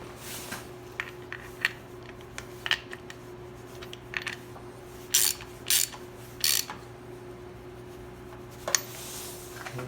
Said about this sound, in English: now we want to tighten her down